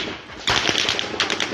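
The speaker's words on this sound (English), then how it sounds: "there's a barrage of gunfire, and the shots are close" Heavy automatic gunfire from a news recording, close shots in a rapid burst of sharp cracks that starts abruptly and stays loud, with no talk.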